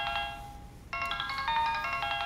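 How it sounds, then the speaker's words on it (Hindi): A mobile phone ringtone plays in a melodic electronic pattern, with a short pause and then a louder, fuller repeat. It sounds close and clear, with no talk over it. "किसका फोन है?"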